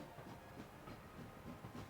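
Train rolling through a station in the city-building game Anno 1800, a faint, steady rumble with soft rhythmic clatter repeating every half second or so, heard alone without talk.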